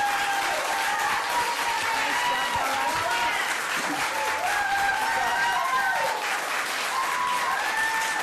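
Sustained clapping from an audience at a Redlands school board meeting, spread evenly across the room, with voices and faint tonal sounds above it.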